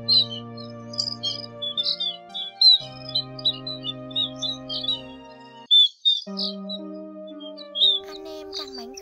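Chim ri đá (munia) and sắc dần calls, a busy run of high, sharp chirps and short tweets repeating close by over a steady electronic hum in the lower range.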